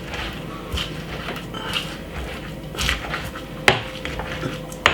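Mashing mixed herbs and garlic with olive oil, likely in a mortar, for Jamaican jerk pork: irregular knocks and scraping taps, a few sharper thuds near the end, moderately close.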